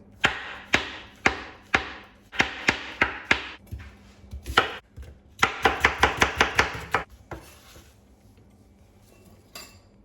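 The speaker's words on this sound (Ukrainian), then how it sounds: "нарізаю гриби." A knife chops mushrooms steadily on a board, quick bursts of sharp close thuds with brief pauses, then a few scattered taps at the end.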